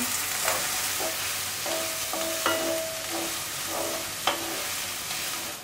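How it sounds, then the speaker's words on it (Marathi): Sliced onion and dried coconut frying in hot oil, a steady close sizzle with short ringing clinks of a spatula stirring against the pan. "तेल तापल्याच्या नंतर यामध्ये आपण कांदा आणि सुकं खोबरं आहे ना ते भाजून घ्यायचं आहे आपल्याला."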